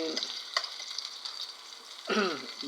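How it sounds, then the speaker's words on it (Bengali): Onions fry quietly in a pan under a soft steady sizzle, with a few scraping stirs and a brief clatter toward the end. "এই যে পেঁয়াজ দিয়েছি পেঁয়াজটা একটু হালকা একটু নাড়াচাড়া দেওয়ার পরে"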